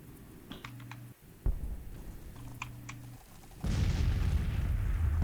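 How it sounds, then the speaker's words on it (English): Cannon fire from 6-pounder guns trading shots in an artillery duel in the Civil War strategy game Grand Tactician, with a sharp boom followed later by a louder, sustained rumble over a low background. "Right now it's just an artillery duel. These are only 6-pounders."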